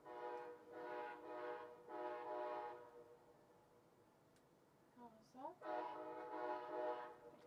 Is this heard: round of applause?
no